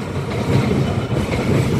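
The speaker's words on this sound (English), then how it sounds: "train passing Knowles, GBRF" GBRF Class 66 locomotive 66785 rumbles past Knowles on a freight working from Hams Hall to Moss End Euro Terminal, a steady loud roar with rhythmic wheel clatter close by.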